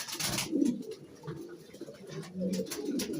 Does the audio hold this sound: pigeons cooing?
yes